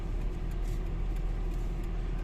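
A car engine hums low and steady as the vehicle pulls into a seaside car park, a continuous near rumble with no talk.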